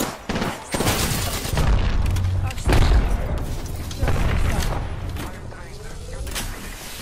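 Gunfire in the video game Apex Legends: bursts of rapid shots and heavy booms that come and go, with game voice callouts heard underneath.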